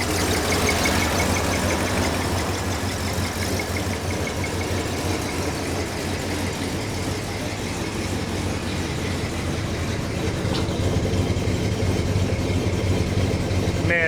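A neglected old Jeep truck's engine runs steadily at idle, a loud, continuous low rumble with a rough knocking texture and no talk over it.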